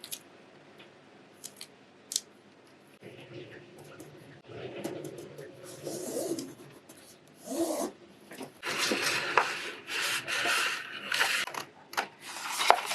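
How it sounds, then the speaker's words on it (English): Adhesive-backed linen tape has its backing peeled away in a quiet room, with soft rubbing and crinkling, a few ticks, then louder papery tearing and rustling bursts toward the end. "So you peel off the backing"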